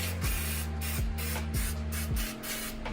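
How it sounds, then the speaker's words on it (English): Paint remover is sprayed from a pump sprayer in a series of short hissing bursts, about four or five in a steady rhythm, close and moderately loud. "we're gonna hit it with the paint remover now"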